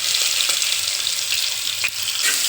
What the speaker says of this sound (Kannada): ನೆಕ್ಸ್ಟ್ ಇದನ್ನು ಚೆನ್ನಾಗಿ ಮಿಕ್ಸ್ ಮಾಡೋಣ ಸರ್